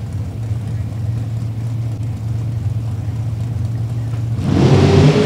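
A roadster drag race car idles with a steady low drone, then its engine revs up loudly and climbs in pitch near the end, while a voice talks over it.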